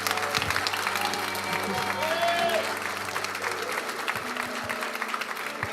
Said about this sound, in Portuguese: Se for para Jesus, pode aplaudir.